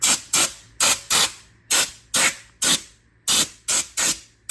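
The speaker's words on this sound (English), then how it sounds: "we're going to go ahead and just use your duster right here" Can of compressed air duster sprayed in about eleven short, sharp hissing bursts, evenly spaced and close by, used during the fitting of 1.5-inch Moca USA wheel spacers.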